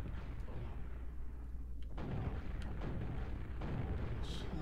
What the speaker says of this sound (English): I'm hitting you with rockets.